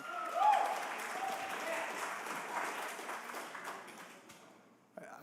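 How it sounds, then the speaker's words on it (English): Audience clapping at a Burlington city council meeting, a steady spread of hands lasting several seconds and slowly thinning out, with faint voices mixed in underneath. "No clapping, please."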